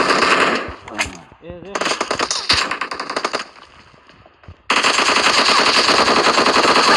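Bursts of rapid automatic gunfire in PUBG Mobile, loud close rattling volleys separated by short gaps, with a brief voice and game sounds between bursts and a sustained burst at the end.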